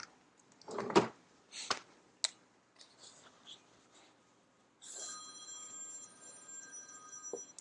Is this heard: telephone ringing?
yes